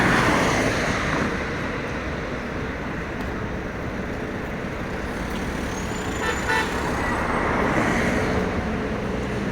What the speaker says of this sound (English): even the traffic is very heavy